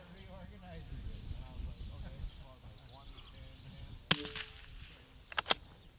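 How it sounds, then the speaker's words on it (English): Rifle shots ring out at steel targets during a precision rifle match, with a sharp crack near the four-second mark and two quick cracks close together near the end. People talk quietly underneath. "shooting each of the targets twice"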